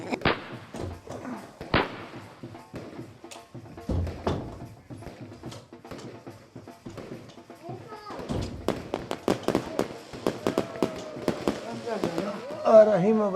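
Celebratory gunfire and firecrackers at a night-time wedding: scattered sharp bangs and thuds, some distant, while people talk close by.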